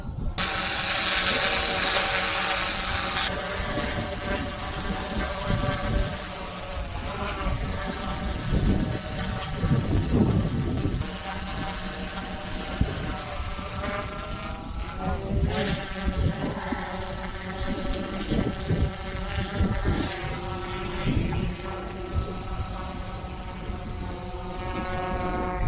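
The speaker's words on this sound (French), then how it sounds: "Voilà, le drone tourne sans problème." The motors of a PowerEgg X drone run on a test, giving a loud, steady mechanical whine and hum throughout with strong tonal bands and no talking.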